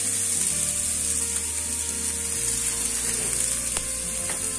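Capsicum fries in a pan with a loud, steady sizzle, broken by a couple of faint clicks and scrapes as it is stirred.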